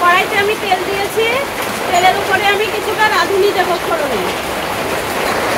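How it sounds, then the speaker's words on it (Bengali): Heavy rain pours outside during home cooking, a steady dense hiss running unbroken beneath continuous talking close by. "বাইরে খুবই বৃষ্টি হচ্ছে আর আওয়াজটাও খুব হচ্ছে"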